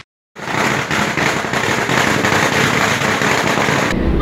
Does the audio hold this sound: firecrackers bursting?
yes